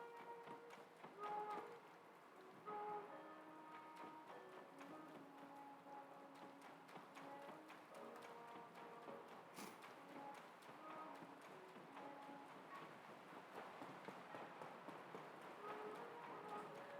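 Steady rain patters across Kakariko Village in The Legend of Zelda: Tears of the Kingdom, a faint continuous hiss of drops with soft musical tones drifting underneath and no speech.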